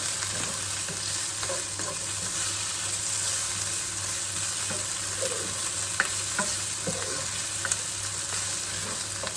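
Onions frying and sizzling in a pan as they are stirred for a catfish stew, a steady close hiss with scraping stir strokes and small pops throughout, no talking.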